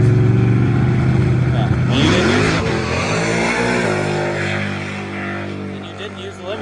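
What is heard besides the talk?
car doing a burnout on small tires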